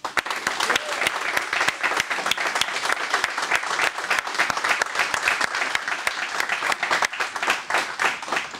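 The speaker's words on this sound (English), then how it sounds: "Please join me as I give a round of applause for the really the hardworking team of the force support professionals" A ceremony audience at Lodges Field applauds the force support team during a retirement event, dense steady clapping from many hands filling the room, loud and sustained throughout with no talk over it.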